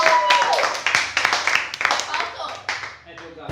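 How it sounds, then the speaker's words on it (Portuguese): A few people clap in a small group, with sharp distinct hand claps close by, scattered and uneven, mixed with voices and chatter throughout. "Salva de palmas!"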